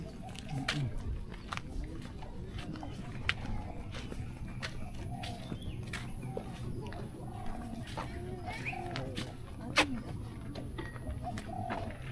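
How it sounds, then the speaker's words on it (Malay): Pigeons coo softly outdoors in a park in Bukit Hijau, Malaysia, amid a busy ambient background, with scattered clicks, footsteps and faint voices nearby. "Bunyi burung pun ada. Kutur-kutur."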